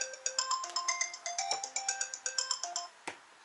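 A phone rings with an incoming spam-risk call: a bright electronic ringtone repeats in a quick, even pulse of tones, fairly close and clear, then cuts off near the end.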